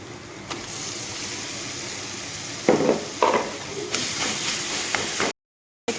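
Spices sizzle and hiss steadily in a frying pan for soybean cutlets, with a few louder stirring scrapes partway through, close and continuous until it cuts off near the end.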